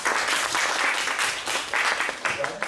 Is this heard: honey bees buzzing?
no